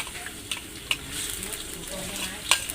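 Pork loin stir-fries in a hot pan while a spatula scrapes and stirs, giving a steady sizzle broken by a few sharp metallic clinks and tosses, close and moderately loud.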